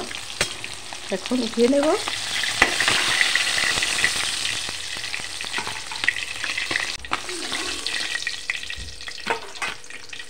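Fish fry in hot oil with a continuous close sizzle, broken by scraping and clinks of a utensil as pieces are lifted, while someone speaks briefly.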